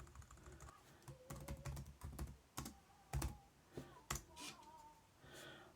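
Typing on a computer keyboard to rename a track for a MiniDisc, in irregular bursts of close, crisp key clicks with brief pauses between them.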